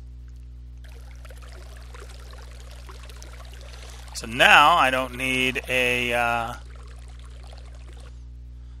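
Water pours from the Botania water wand in modded Minecraft as a faint, steady trickling stream, with someone talking partway through.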